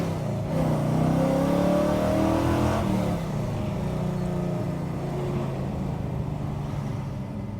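A 525 hp big-block V8 1966 Chevelle accelerates hard from a stop, its deep engine roar rising steadily, then settling into a loud, sustained rumble as it pulls away.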